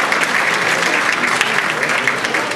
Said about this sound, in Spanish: Y con ese aplauso empieza la pasarela de mujeres hermosas